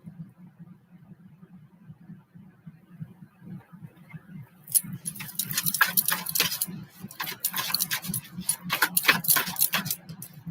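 Oracle cards shuffled by hand during a card reading: a dense run of crisp papery riffling and slapping starts midway and continues over a steady low hum.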